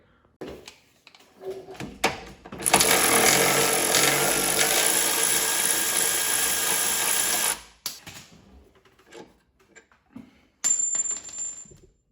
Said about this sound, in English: taking these sway bar end links and loosening those, removing them and swinging the bar down and out of the way